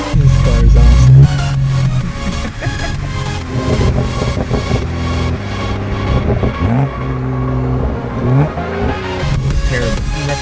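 Straight-piped BMW 435i revving hard, a loud raspy exhaust rising and falling through repeated throttle blips and climbs, close and alone with no talking.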